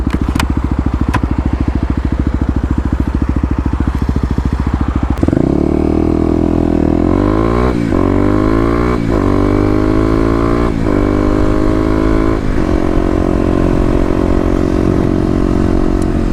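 A Kawasaki KLX250 motorcycle idles, then pulls away hard from a traffic light, its engine revving loudly up through several gear changes, close and dominant throughout.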